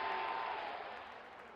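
Cricket stadium crowd at a Pakistan vs Netherlands match applauding a hit, a broad steady wash of clapping and cheering that fades slightly over a second and a half, distant and fairly quiet.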